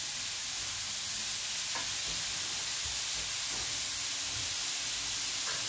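Chicken and spinach pie filling sizzles steadily in a hot pan, a constant bright frying hiss close up with a few faint stirring knocks underneath and no voices.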